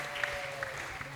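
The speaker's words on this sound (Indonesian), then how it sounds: "Kita kasih aplaus dulu buat beliau." An audience at a Hindu youth leadership training session claps briefly: a short, steady patter of applause at moderate distance, fairly soft, with no voices over it.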